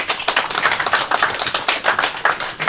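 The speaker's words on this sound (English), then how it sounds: "So please, ladies and gentlemen, round of applause for Kyle" A small audience at a tropical fruit festival in Fiji claps for a speaker being introduced, sparse, distinct handclaps with an uneven rhythm, fairly close and moderately loud.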